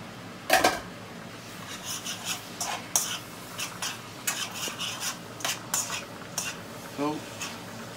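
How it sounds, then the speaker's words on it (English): A spoon scrapes and clatters in a pan of frying onions and bacon as butter and mushrooms go in, with irregular metallic strokes, a faint sizzle underneath and a voice briefly audible. "I'm going to put a knob of butter into it, and I'm going to add the mushrooms."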